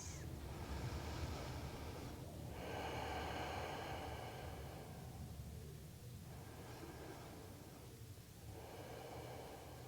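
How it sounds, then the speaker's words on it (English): Slow, deep inhales and exhales during a yoga flow, soft and airy, coming in long waves over about ten seconds with brief pauses between them, quiet and close. "Taking 3 long breaths."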